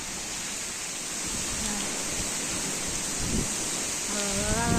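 Heavy first rain of the season driven by gusting wind, a dense steady roar of rainfall and wind noise that builds slightly louder toward the end, with a faint voice briefly audible near the close.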